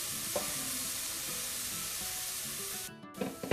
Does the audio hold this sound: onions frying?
yes